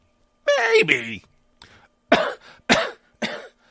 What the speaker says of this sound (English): I'll get a little cough.